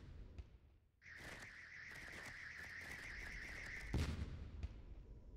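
Sustained, Trek-style phaser laser beam fires in the space video game Starcom: Unknown Space, a steady bright hum lasting about three seconds before cutting off with a dull thump over low background rumble.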